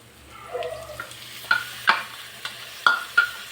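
Ground masala stirred into a frying pan for fish sambar, with a soft continuous sizzle broken by about five sharp spoon scrapes against the pan, close and moderately loud, no talking.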